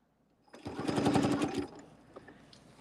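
A sewing machine stitches fabric in one steady, rapid run of about a second, its needle chattering close and even before stopping, with no talk over it.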